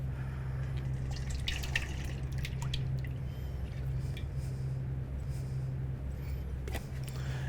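Whole milk poured from a container into a bowl of eggs for a French toast custard, a steady soft liquid pour and trickle running continuously under a low background hum.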